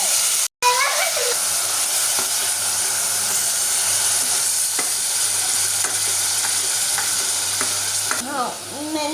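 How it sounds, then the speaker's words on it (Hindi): Vegetable fritters fry in a pan, a constant close hiss and sizzle with occasional soft stirring clicks throughout, preceded by a brief dropout near the start. "अब मैं इसको फ्राई करूँगा"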